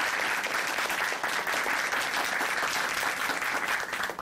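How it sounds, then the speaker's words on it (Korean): Audience applause in a studio for a Korean Christian testimony broadcast, a steady dense wash of many hands clapping that holds loud and even throughout without any voices. "응원의 박수 보내드릴게요"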